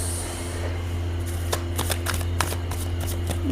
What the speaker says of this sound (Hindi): Just give me a second and I just want to pull out more cards.